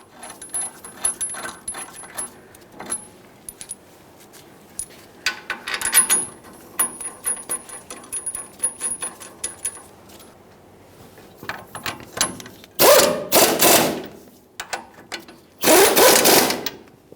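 Caliper bracket mounting bolts are threaded by hand on a Ford F-150 front brake, producing scattered metallic clicks and small clanks of tools and parts. Several louder bursts of clatter come near the end, with no talking.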